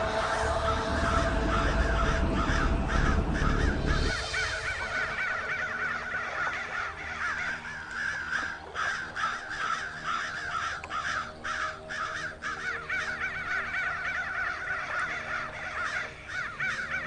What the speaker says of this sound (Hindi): इतना सारा कौवा उड़ रहा है, लेकिन एक भी कौवा खाना ही नहीं खा रहा।